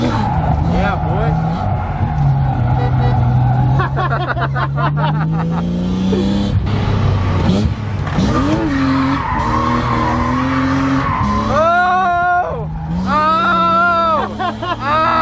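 A BMW E36 drifts through turns, engine revving hard with rising and falling pitch and tires squealing in long loud skids, while voices shout and talk excitedly over it.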